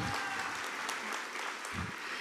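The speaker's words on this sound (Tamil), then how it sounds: "அவர்களுக்கு ஒரு பெரிய கைத்தட்டல் நம்ம கொடுத்தே ஆகணும்" Audience applause at a women's achievers award ceremony, a steady wash of clapping across the whole moment with a brief low thump near the end.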